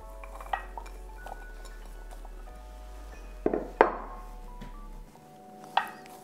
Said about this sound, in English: Add the rest of your green beans. And then you want your carrots in the middle.